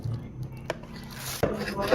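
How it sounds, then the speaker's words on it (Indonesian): A couple of soft knife chops cut grass jelly into cubes on a cutting board, quiet taps with a faint murmur of background noise between them. "Untuk jeli cincau ini mau aku potong dadu ya teman-teman."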